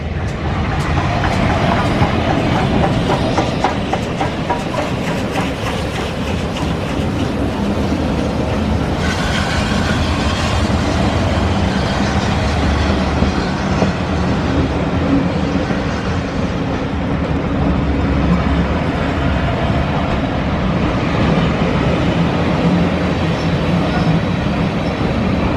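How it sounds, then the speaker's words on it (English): A West Somerset Railway train passes close by, a loud steady rumble with rhythmic clickety-clack of wheels over rail joints continuing for a long stretch. "this is the train we just saw leave Minehead."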